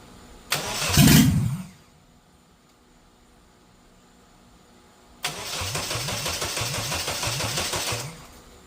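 A Nissan Hardbody truck engine cranks and catches in a loud first attempt, goes quiet, then cranks again with a rapid chugging starter rhythm for about three seconds before cutting off, close by with no talk.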